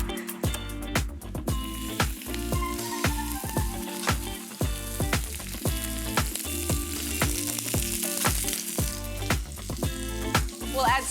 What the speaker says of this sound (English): we'll drop these into the pan with our butter beans and get them all crispy and delicious